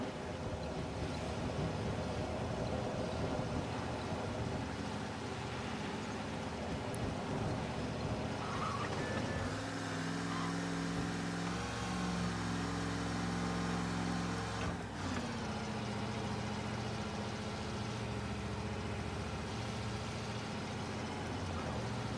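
A car engine hums steadily while driving in the Mafia 1 Remake video game, a sustained mid-level drone with shifting harmonic tones as the pitch rises and settles, with no talking over it.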